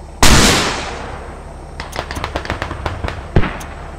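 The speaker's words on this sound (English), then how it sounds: "He's shooting at a helo." Gunfire in the military shooter Squad on the Gorodok map: one loud blast that rolls away, then a scattered run of sharp, sporadic shots at a distance, ending with another close crack.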